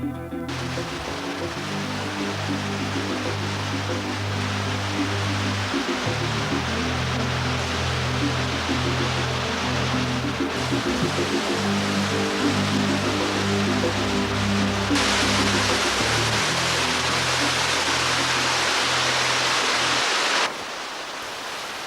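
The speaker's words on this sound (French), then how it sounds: "La cascade du réseau Nord nous offre un spectacle féerique." The underground waterfall of the northern cave network at the Fontaine de Nîmes gives a constant loud, dense roar, overlaid by steady music that cuts away near the end.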